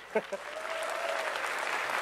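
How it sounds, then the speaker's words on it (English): A live convention crowd at PAX East applauds, with a dense wash of clapping rising after a couple of short voiced sounds and continuing steadily at moderate volume. "she deserves a round of applause, even though she's not here"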